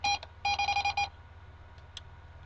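A K2 ghost meter beeps: one short electronic tone, then a longer burst of rapid chirps, followed by a few faint blips, all loud and close in a quiet room.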